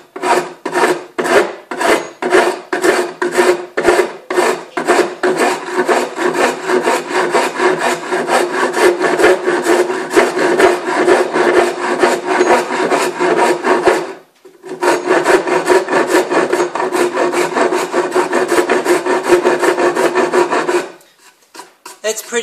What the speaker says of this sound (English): I'm going to rasp this off that way.